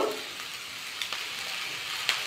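A steady, bright sizzle rises from vegetable rice frying in a pan as egg whites are poured over it, with a couple of faint clicks and no talking.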